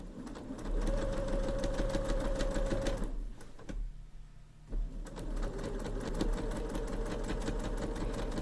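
A sewing machine stitches bias-cut Halloween bunting, running steadily and fairly quietly, with a brief pause midway before the motor resumes its even whirring.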